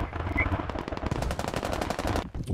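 Rapid bursts of automatic gunfire in the military shooter Squad, a dense rattling string of close shots lasting about two seconds before cutting off abruptly, with no one speaking over them.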